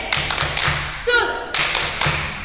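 Rhythmic group hand clapping at a children's Sunday school worship service, several crisp bursts in a steady beat, close and fairly loud, with a brief voice between claps.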